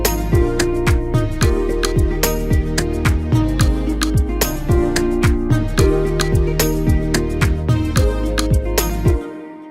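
Mixed and mastered Afrobeat beat played back from FL Studio: punchy kicks and crisp percussion in a steady, bouncy groove, loud and continuous, cutting off abruptly near the end.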